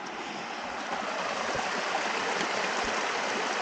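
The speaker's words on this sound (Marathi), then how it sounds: "ते पाटाचं पाणी चाललंय ओढ्याचं" Monsoon water rushes steadily through a village stream channel, a dense, continuous wash of flowing water close by with no voices.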